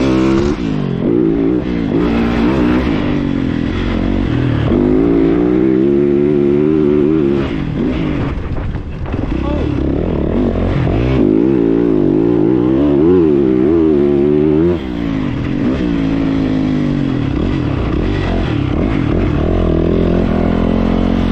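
A 2020 Yamaha YZ450F dirt bike rides a track, its loud close engine revving up and down continuously through repeated acceleration and gear changes, with no talk.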